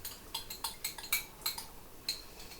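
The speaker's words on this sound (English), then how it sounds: "Just stir that in carefully if you're using a metal spoon" A metal spoon clinks against a pot while mustard is stirred into a chicken, sorrel and potato stew with french beans, giving about eight light, close taps in an irregular rhythm with nothing else around them.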